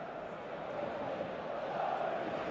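A large stadium crowd roars at a football match in eFootball 2024, a dense and steady wash of cheering that swells slightly as it goes on.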